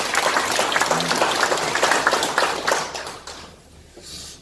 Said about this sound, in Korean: 우리 직원들한테 격려의 박수 한번 보내드립니다